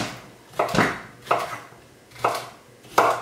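A knife cuts zucchini into big chunks, producing four distinct, evenly spaced chopping thuds, clear and close with quiet pauses between strokes.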